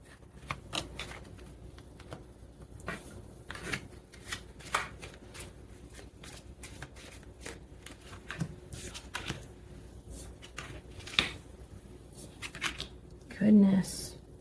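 Quiet, irregular soft riffles and taps of cards being shuffled, with brief pauses between bursts and a faint voice toward the end.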